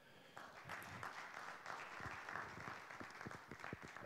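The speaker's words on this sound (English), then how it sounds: "Please give him a round of applause for Dustin with 36 Degrees North." An audience at a 1 Million Cups Tulsa startup presentation event applauds a presenter from 36 Degrees North. The clapping is soft and distant, a crowd of many hands that swells and then carries on steadily.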